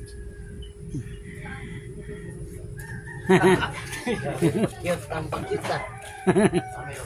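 Chickens cluck and squawk nearby in short bursts, with people talking in between the calls.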